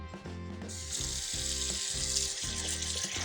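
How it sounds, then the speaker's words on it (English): Fresh kale washed under running water, a continuous close rush and splash of flowing water with rhythmic low clunking handling sounds through it, no voices. "We need to wash our kale before we start cooking with our kale."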